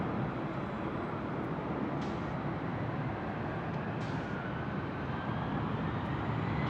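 Delta flight 1136, an airliner taking off from runway 24 left at LAX, heard from a distance as a steady, broad jet-engine roar holding constant throughout, with no voices.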